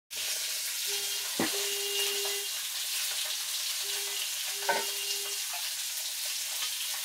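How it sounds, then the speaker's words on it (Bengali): Fish sizzles steadily in hot oil in a pan, a loud continuous crackle with a couple of brief clatters of stirring and a faint tone in the background, no talking. "মা মাছ ভাজছে"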